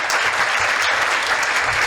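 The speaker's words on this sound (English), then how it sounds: "Can we give them another round of applause" An audience at a postgraduate awards ceremony gives the award presenters a round of applause, a continuous, fairly loud spread of many hands clapping with no pause.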